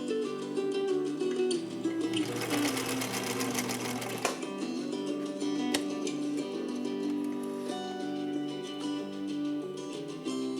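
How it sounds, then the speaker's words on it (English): A sewing machine runs a straight stitch, a steady close mechanical whir with a fast rhythmic needle beat that briefly speeds up and louder in the early seconds. "let's lay down this straight stitch"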